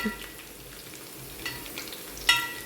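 Green chilies sautéing in a pan for a tamarind pickle, a steady soft sizzle with light stirring scrapes and a brief sharper clink near the end, no voices.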